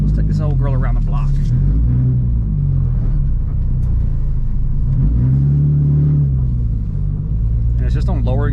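Nissan 350Z with a swapped VQ35HR V6, on lowering springs, pulling away with a rising engine note and deep exhaust rumble, revs climbing and dropping through gear changes, close and loud under someone talking.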